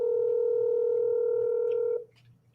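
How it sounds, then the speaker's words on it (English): A steady, loud telephone tone on a cell phone call holds for about two seconds, then cuts off abruptly and leaves faint background noise. "I'm calling Sterling on his cell phone to find out where I am"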